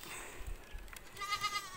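A goat on a farm where kids have just been born, bleating in a short wavering cry, close and clear over rustling background noise.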